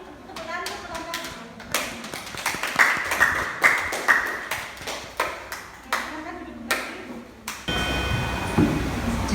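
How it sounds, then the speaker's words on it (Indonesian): Classroom group applause in an economics and business lesson, bursts of hand clapping from pupils with scattered children's voices, loud and close, stopping and restarting several times. "Tepukan untuk kelompok."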